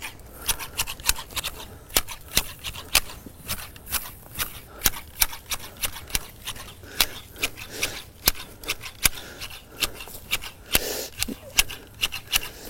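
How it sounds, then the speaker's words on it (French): Hand shears snipping heather plants in a garden, trimming along the edges: a steady run of crisp, close cuts about once a second, fairly quiet with no talking. "Je commence à tailler par les bords"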